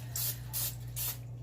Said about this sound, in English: I'm just going to spray them